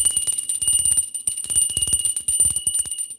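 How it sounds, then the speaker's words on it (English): A bell is rung repeatedly in quick strikes, bright and sustained, ringing on over a steady high tone for about three seconds. "I'm going to ring the bell for Shell Bell."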